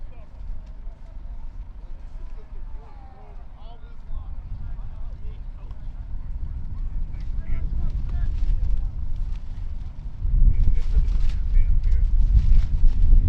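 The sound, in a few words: strong wind blowing over football field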